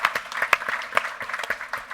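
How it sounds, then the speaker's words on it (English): A conference audience at a panel on the Greater Washington economy gives a brief round of applause, crisp overlapping claps of moderate loudness that come in a quick, uneven patter for a couple of seconds. "A round of applause for the Mayor of Alexandria."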